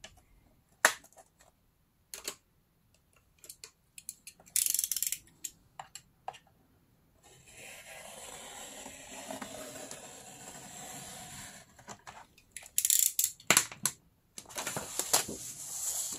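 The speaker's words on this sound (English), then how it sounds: "grab your paper and cut it on half here" A 12x12 inch sheet of paper is cut in half into two 6x12 pieces: scattered sharp snips and clicks, then a long steady scraping slice, then more quick snaps, close and fairly quiet, with no talking.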